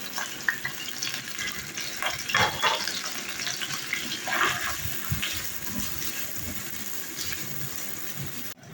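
Onions go into a quarter cup of hot oil for a mutton karahi masala, giving a close, busy sizzle with bursts of spattering and stirring that settle into a steadier fry, no voices.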